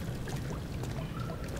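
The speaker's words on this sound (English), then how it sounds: "I'm drinking water. Some poisonous fungi water." Watery pouring and gurgling as poisonous fungi water is drunk in Amnesia: The Dark Descent, a steady trickling wash lasting under two seconds with no speech.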